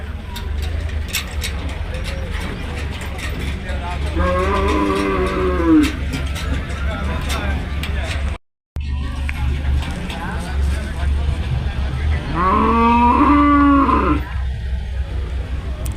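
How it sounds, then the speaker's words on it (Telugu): Ongole bulls and cattle moo at a crowded outdoor bull market in Markapuram, with two long, loud moos rising and falling over a constant murmur of people talking and general market noise. "మంచి మంచి ఎద్దులు వస్తుంటాయి మార్కప్ ఎద్దుల సంతకి మంచి ఫేమస్ అన్న"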